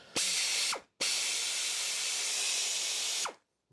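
3/8-inch ratchet working on bolts of a John Deere-made Sabre 1438 riding mower, two close bursts of rapid clicking, a short one then a longer one, with nobody talking.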